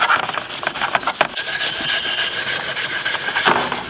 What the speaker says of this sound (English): use a wire brush, forget about this smooth sander